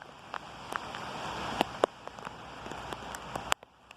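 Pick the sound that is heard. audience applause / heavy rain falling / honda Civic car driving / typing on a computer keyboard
heavy rain falling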